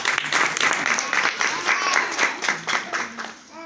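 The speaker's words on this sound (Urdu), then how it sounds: "ہم خدا کے کلام کے لیے زوردار تالی بجاتے ہیں" A church congregation at a Christmas service gives a loud round of applause for the word of God, a dense, lively patter of many hands that rises and gradually tapers off near the end.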